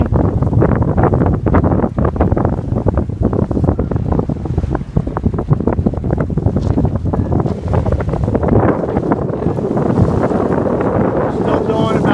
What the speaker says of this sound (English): Winds are starting to gust pretty good.